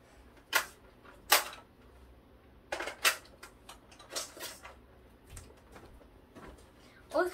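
A BB gun magazine is reloaded by hand, with a few sharp plastic clicks and snaps spaced irregularly between quieter handling rustles, close up. A voice speaks faintly in the background.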